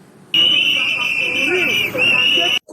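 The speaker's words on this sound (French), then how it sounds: "Coup de sifflet sous fond de sonnette d'alarme pour exprimer leur ras-le-bol." A shrill whistle blast rings steadily over a continuous alarm bell at a medical staff strike in Cameroon, loud and close, holding for a couple of seconds before cutting off.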